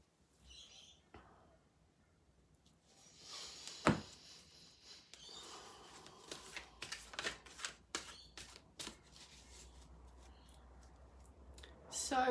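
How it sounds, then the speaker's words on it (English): An angel card deck is shuffled in a quiet room, giving soft papery riffles and scattered light clicks that come and go, with one sharper tap partway through. "So we're shuffling a card in this conscious moment"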